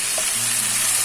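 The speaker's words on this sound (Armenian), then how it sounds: "Խառնենք" Meat frying in a pan as it is stirred, a steady close sizzle with a faint scrape of the utensil, continuous and fairly loud with no talking.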